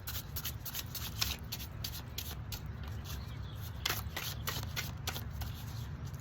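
Slippery tarot cards are shuffled by hand at close range, giving a continuous papery riffling with rapid crisp flicks and periodic louder bursts, no voice over it.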